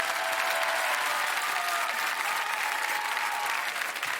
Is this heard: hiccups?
no